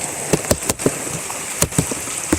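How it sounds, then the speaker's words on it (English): Rain falls during a tropical storm outdoors, a steady soft hiss broken by scattered close drop taps, with no talking. "We got a tropical storm coming in here"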